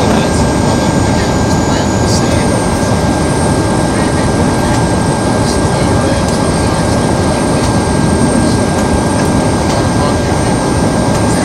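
Loud, steady roar inside a United Express airliner cabin during descent into Ottawa, a dense unbroken engine and airflow drone with a faint high tone, with talk faintly audible beneath.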